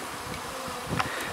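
Honeybees buzzing around a hive as they circle and check out the bottom box, a steady close hum with one brief louder pass near the middle, no talking.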